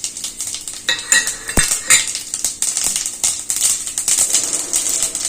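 Cumin, mustard seeds and urad dal tempering in hot oil, with crackling sputters and repeated metal spoon clinks and scrapes against the pan, close and fairly loud.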